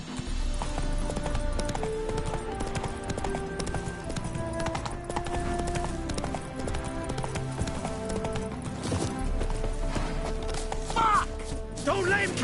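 Roach, a horse in The Witcher video game, gallops with a fast, steady clip-clop of hooves and a brief whinny, set against a dense game soundtrack.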